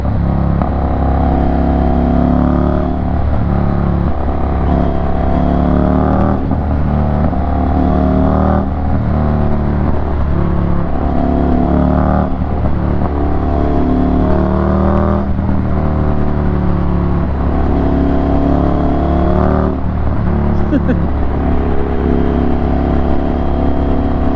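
An Indian motorcycle revs loud and close, the throttle repeatedly opened and then released in steady swells that fill the whole stretch with no talk.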